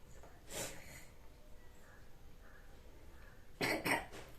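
A single cough, then after a quiet pause a sharper double cough, both fairly faint against a low background hiss.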